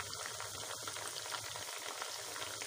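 Square-cut rava sweet pieces fry in a pan of hot oil, giving a steady, dense sizzle that continues evenly without pause and with no talking.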